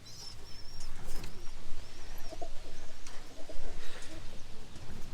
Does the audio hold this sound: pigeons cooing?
yes